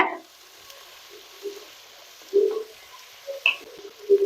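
Tomato and onion sauté in a hot pan for a chicken fry, giving soft, intermittent sizzling with a few louder bursts and wet stirring sounds close by.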